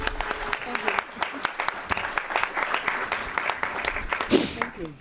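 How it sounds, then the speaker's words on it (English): A school board meeting audience applauds steadily for several seconds, crisp claps filling the room, with a voice speaking near the end. "Oh, you're clapping now"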